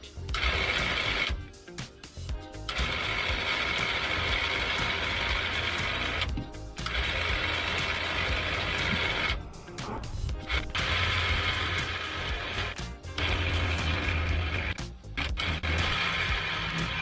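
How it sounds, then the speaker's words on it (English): Starter motor of a long-abandoned BMW 2002 cranking to drag the car up a driveway, a steady loud whirring grind in long bursts broken by brief pauses. "I'm using the starter motor to get it up the driveway here"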